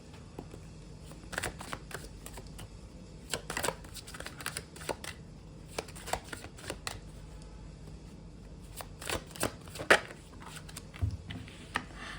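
Tarot cards are shuffled by hand in a string of quick, crisp riffles and soft slaps, fairly close and moderate in level, with small taps and pauses in between.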